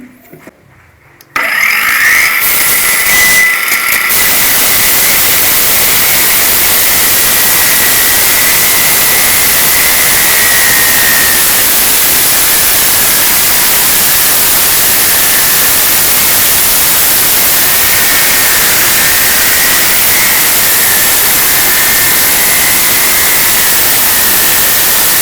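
A Keelat circular saw cuts through wood about 4 cm deep, starting after a brief quiet moment with a loud, steady, high whining roar that holds unbroken for over twenty seconds.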